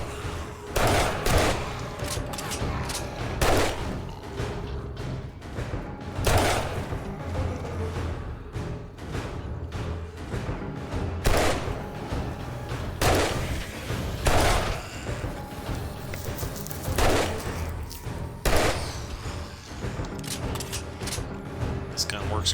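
Gunfire from the most powerful handgun in 7 Days to Die during a blood moon horde, sharp repeated shots at irregular intervals over a dense, noisy game mix, with someone talking throughout.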